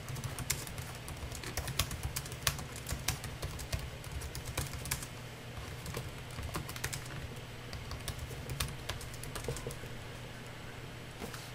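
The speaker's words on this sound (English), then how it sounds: "Now I want to show you a demo of typing with the keyboard." Continuous fast typing on the keyboard of a Sony Vaio T Ultrabook laptop: a steady stream of light, crisp key clicks with a few louder taps, close and fairly quiet over a soft background hum.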